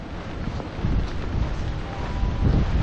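Strong hurricane winds from Hurricane Ian lash Orlando, Florida, around a flooded golf driving range, a steady loud roar of wind buffeting the microphone with surging gusts and no voices.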